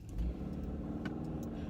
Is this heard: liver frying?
no